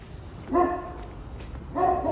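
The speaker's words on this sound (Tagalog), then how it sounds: "Ang dami nga lang aso dito." Dogs bark in two short bursts, a cluster of harmonic yaps early and another near the end, moderately close over steady outdoor city background noise on a cold morning in Kutaisi, Georgia.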